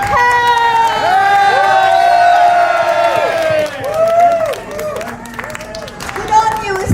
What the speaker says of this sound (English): So I wonder if we could give a big cheer for Assange.